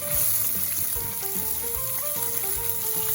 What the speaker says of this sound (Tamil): அந்த கத்திரிக்காய் பொறிச்சு எடுத்த அந்த கொஞ்சம் எண்ணெயிலேயே இதை வதக்கினா போதும்